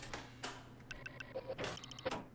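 Console prop from Half-Life 1 in Garry's Mod, giving a quick run of electronic beeps and short tonal blips over a low mechanical hum, close and fairly quiet.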